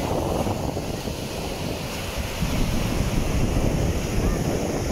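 Surf rolls continuously onto the wide sand of Poole Sandbanks beach near the dunes, a steady broadband wash thickened by wind buffeting the microphone, with no distinct break of individual waves.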